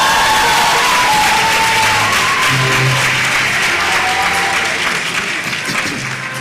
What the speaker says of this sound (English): Let's keep applauding these first class graduates.